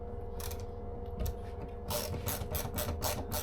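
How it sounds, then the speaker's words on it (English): Ratcheting screwdriver turning, a soft clicking ratchet at first, then a run of louder, rhythmic ratchet strokes close by. "One of the best investments that I made is a ratcheting screwdriver."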